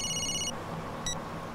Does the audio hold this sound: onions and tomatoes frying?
no